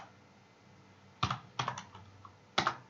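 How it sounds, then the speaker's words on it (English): Typing on a computer keyboard, a few short clusters of quick key clacks separated by pauses, close and crisp over a quiet room. "Let's type main.js."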